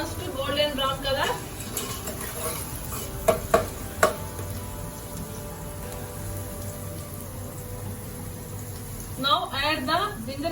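Onions and green chillies frying in a pan over a medium flame give a steady close sizzle, with a few sharp knocks of stirring near the middle and a voice heard briefly at the start and end.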